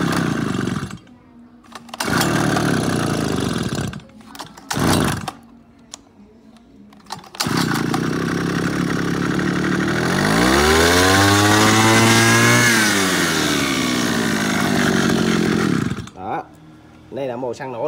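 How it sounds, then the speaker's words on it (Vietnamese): A Mitsubishi TL33 petrol engine driving a water pump is pulled over a few times in short bursts, then catches and runs loud and steady, revving up and settling back; someone talks between the pulls. "Rồi mồi xăng cho máy nổ."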